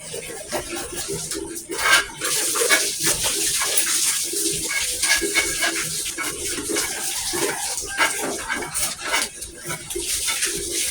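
Water splashes and pours in a tub while laundry washed with soap is rinsed by hand at home, a busy, close wash of sloshing and dripping with occasional bird calls in the background.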